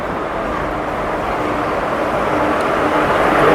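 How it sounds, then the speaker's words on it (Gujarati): A train pulls into a railway platform, a steady broad rumble that swells slightly as it draws nearer, loud and continuous without speech. "ટ્રેન આવી જશે પ્લેટફોર્મ ઉપર."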